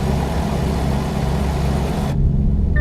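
Truck engine idling in the American Truck Simulator video game, a steady low rumble that holds throughout with no talk, the upper hiss dropping away near the end while the engine drone continues.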